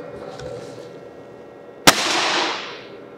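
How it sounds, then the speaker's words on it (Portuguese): A Nitro X air rifle fitted with a 75 kg kit fires a Dome pellet in one sharp, loud crack, followed by a broad rushing decay under a steady low background hum. "Último disparo com o rifle Dome."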